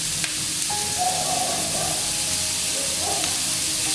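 Beetroot sautéing in a pan for chicken tikka biryani gives a loud, steady, close hissing sizzle with no break, with faint soft stirring beneath it.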